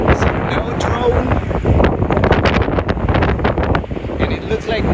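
Strong, gusty wind at a Florida Keys beach buffets the microphone in a steady roar, with louder bursts throughout.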